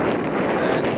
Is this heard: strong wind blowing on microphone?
yes